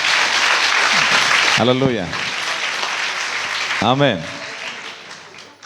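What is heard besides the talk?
audience applauding loudly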